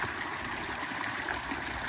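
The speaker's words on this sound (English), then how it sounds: "In the middle we installed a bronze fountain with the Four Seasons statues built into it." Water splashes and trickles steadily in a bronze fountain with Four Seasons statues at the center of a pool, a continuous, even flowing rush with no voices.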